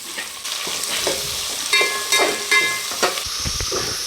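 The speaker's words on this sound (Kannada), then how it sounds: "ಈರುಳ್ಳಿನೂ ಹಾಕ್ಕೊಂಡು ಚೆನ್ನಾಗಿ ಫ್ರೈ ಮಾಡ್ಕೋಬೇಕು" Onions fry in a pan for a pumpkin dish, a moderate continuous sizzle broken by several sharper scrapes and taps of stirring, with no voices.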